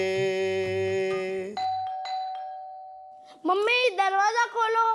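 A doorbell rings with a clear two-tone ding-dong, loud and close, after a sustained tone, followed by a voice speaking.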